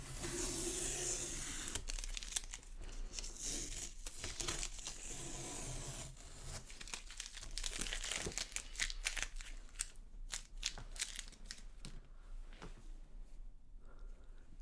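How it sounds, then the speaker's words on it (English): Masking tape peeled off painting paper, a steady near crackling and tearing rasp running throughout with bursts of sharper rips, no voices. "Always pull your tape out the way so as you don't end up tearing your paper"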